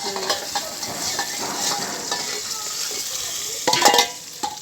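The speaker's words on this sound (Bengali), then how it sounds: "এই যে আলুগুলো একটু ভেজে নিচ্ছি।" Potatoes fry in a hot pan with a steady broadband sizzle, while a utensil stirs and scrapes through them in irregular strokes, with a louder burst of clatter near the end.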